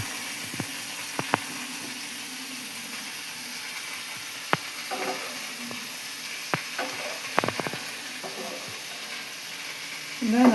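Onions frying in a pan for mutton chops: a soft, steady low sizzle with scattered sharp clinks and stirring taps, fairly quiet and close, with a brief louder rustle at the end.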